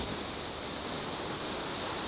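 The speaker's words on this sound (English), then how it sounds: "Look at the size of those waves up front." Open-ocean yacht racing in the 1989–90 Whitbread Round the World Race, with a dense, unbroken roar of strong wind and rushing waves filling the sound, loud and constant without a break.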